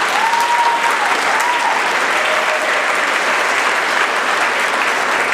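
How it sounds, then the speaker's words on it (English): An audience at a YWCA Women of Distinction keynote applauds loudly and steadily, a dense wash of clapping that holds for several seconds with no speech over it. "I'm glad you're applauding it"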